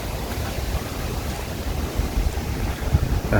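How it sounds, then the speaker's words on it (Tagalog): Strong wind buffets the microphone outdoors in Japan, a steady broadband roar with low gusty rumbles swelling louder near the end, no voices. "Maraming lakas ng hangin."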